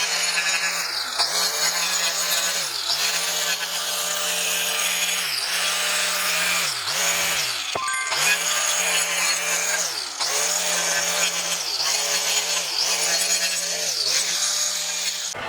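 A power tool grinds continuously against a wooden piece, roughly distressing it, its motor pitch dipping rhythmically as it bites and rubs, loud and close.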